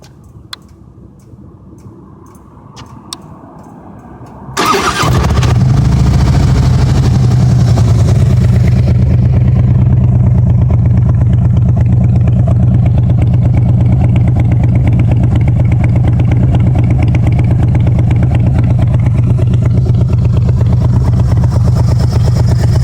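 A 2013 Harley-Davidson FLHTK with American Custom slip-on exhausts starts after a quiet moment and settles into a loud, deep, throaty idle with a steady lumpy rumble, close by.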